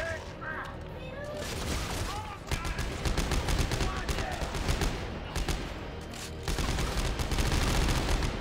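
Rapid bursts of gunfire crackle in the co-op video game Dead Space 3, repeated fusillades and single shots at moderate volume, with players talking over the action.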